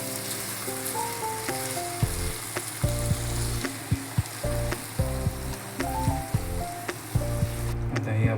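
Small dried-style prawns coated in turmeric and salt sizzle in a pan, with a loud frying hiss and repeated rhythmic scraping and knocking of a spoon as they are mixed.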